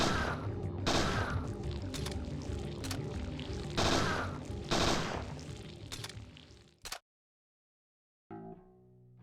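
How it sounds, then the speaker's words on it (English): Rapid gunfire from the video game Parasite Eve II, dense repeated shots with several louder bursts over about seven seconds, then a sudden cut to silence and quieter game sounds. "Shoot it!"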